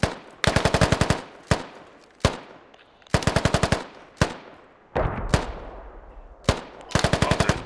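Automatic gunfire in the military shooter Squad, several sharp bursts of rapid rounds with single shots in between, loud and close, with echoing tails rolling off across a valley.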